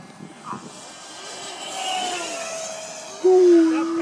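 A Banana Hobby BlitzRC 50mm Viper RC jet with a 4S-powered Dr. Mad Thrust electric ducted fan makes a speed pass, its whine rising from a distant hiss to a loud, steady high-pitched scream as it nears.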